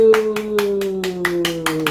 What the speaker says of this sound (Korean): 박수! 다 박수!